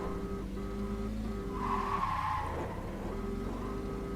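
A 3/4 ton truck towing a load brakes hard, its tires skidding and squealing in a sustained screech over a low engine drone, rising mid-way and then easing off.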